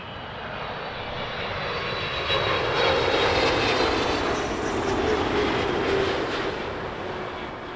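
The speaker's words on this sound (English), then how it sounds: "Awesome 777 arrival there, courtesy of British Airways." British Airways Boeing 777 landing at Heathrow, a loud sustained jet engine roar that swells and holds as the airliner passes close by, with no talk.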